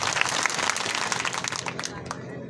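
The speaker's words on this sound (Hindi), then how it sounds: "जोरदार तालियां बजा के अभिनंदन करें" Crowd applause at an election rally for the Lok Sabha campaign in Rajgarh, a burst of hand clapping that tapers off over a couple of seconds, with some voices mixed in.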